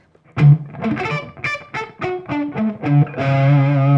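A Framus Idolmaker electric guitar with a Bill Lawrence OBL humbucker plays a run of distinct picked notes, each ringing clearly with a warm, full, undistorted tone, ending on a sustained chord.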